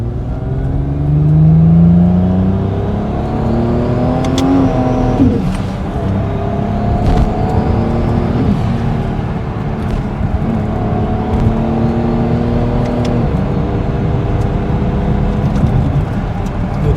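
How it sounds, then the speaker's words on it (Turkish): A 200-horsepower car, apparently a Toyota Supra-style build, revs loud and close while driving, its engine pitch climbing and dropping through repeated accelerations with a steady whir underneath. "şimdi biz 200 beygir arabaya biniyoruz"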